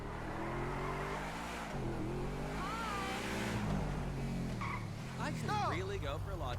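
Car in the video game GTA V driving hard and skidding, with engine revving and repeated tire squeals rising and falling over several seconds, while a person talks over it throughout.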